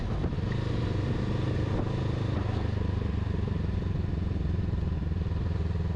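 A 2021 Honda Rebel 500 ABS motorcycle rides along a street, its engine a steady close-up low drone with wind rush and faint clatter, no speech.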